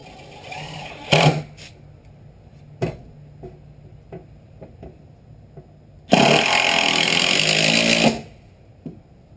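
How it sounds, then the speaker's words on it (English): A power driver sinks screws into bowed plywood on an off-grid cabin build: one long, loud whirring burst near the end, with scattered short clicks and knocks before it and no talking. "just driving in a couple screws"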